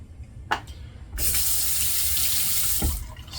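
Tap water runs steadily into a sink to wet the face before a head shave, a continuous splashing gush after a couple of short knocks, close and alone.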